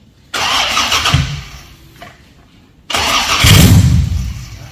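Supercharged LSA V8 firing up for the first time, two cranking starts each catching into a loud, close engine roar, the first dying back before the second catches and settles into a rough idle.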